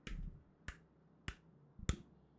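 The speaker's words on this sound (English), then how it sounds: "a sort of clacking noise behind you of these two hooks of the hook horror clapping together as it comes stumbling down the corridor behind you" Four sharp, dry clacks spaced roughly half a second apart, like hard hooks striking together, standing alone against near silence as a hook horror's clatter.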